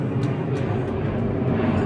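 An airplane passing overhead makes a steady, distant low rumbling drone that holds evenly throughout, with no talk over it.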